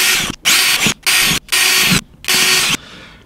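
A drill with a 6 mm bit bores holes in recycled plastic: four or five loud, whining bursts, each under a second long, broken by short silent pauses.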